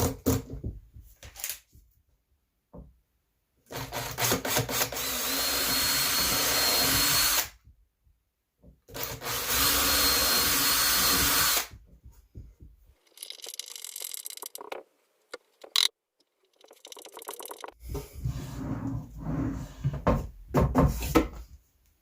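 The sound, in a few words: pilot drilling and screwing into wood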